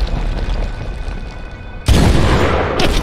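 An incoming mortar round explodes with a loud, sudden broadband boom in the Medal of Honor (2010) war game, followed by a second burst of debris and blast noise, after a quieter stretch of distant battlefield rumble.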